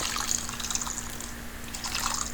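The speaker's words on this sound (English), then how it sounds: "Here I am adding hot water." Hot water is poured into a pot of Chinese-style vegetable Manchow soup seasoned with soya sauce, a steady splashing trickle with bubbly liquid texture that swells and eases slightly, close and moderately loud, with a faint hum beneath.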